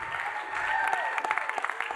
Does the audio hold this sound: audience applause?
yes